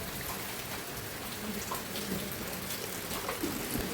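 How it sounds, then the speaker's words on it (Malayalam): Light rain drizzles outdoors, a soft, even patter and hiss of drops on surfaces that carries on steadily at low volume without pause. "മഴ ചാറുന്നുണ്ട്"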